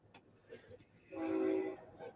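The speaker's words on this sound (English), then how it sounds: "the train's coming through" Train coming through nearby, marked by a single sustained horn blast that rises over quiet background noise and fades after about half a second, fairly faint and distant.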